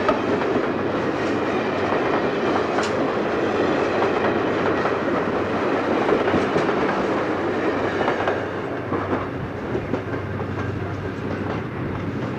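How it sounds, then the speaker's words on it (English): A Seaboard Coast Line train speeds north through Delta, South Florida, in 1970, a loud, steady roar of wheels and rail clatter filling the whole stretch close by, with no voices. "Different train, same location, speeding north through Delta."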